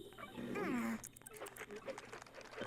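A wolf and a cat fight in The Sims 2. A short, sliding yowl rises and falls, followed by scattered scuffling, yips and clattering game effects, all fairly faint.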